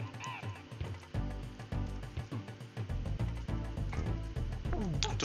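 A cartoon bird squawking in the video game Donkey Kong Country, a string of honking, goose-like calls in irregular bursts over busy game music and effects, loud and close.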